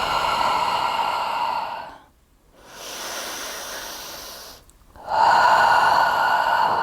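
Deep, slow breaths during a yoga flow, long airy inhales and exhales close to the mic, separated by short silent pauses.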